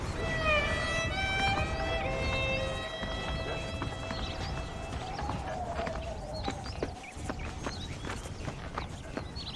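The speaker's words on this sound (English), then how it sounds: "The horses are saddled up over here." Saddled horses in the Red Dead Redemption video game, hooves clip-clopping at a walk with soft scattered steps, accompanied by tonal music or ambient sound early on, no speech heard.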